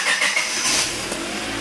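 A car's engine catches and revs briefly after an unplugged PCV sensor was reconnected in a workshop, a short mid-pitched burst of engine noise close by with no talk.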